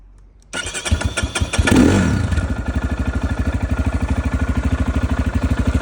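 A Geon Dakar GNS 300R motorcycle engine starts up, revs briefly, then settles into a loud, rhythmic idle close by.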